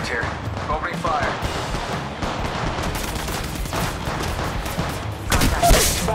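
Gunfire from the mobile battle royale game Apex Legends Mobile, with bursts of shots and sharp cracks running continuously through the clip, loudest near the end, set against a busy in-game mix.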